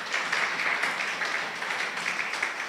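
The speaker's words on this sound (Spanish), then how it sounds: "Denle un aplauso al Señor" Congregation applauding in church during a Sunday service, a dense, steady wash of many hands clapping together, close and loud without any voices on top.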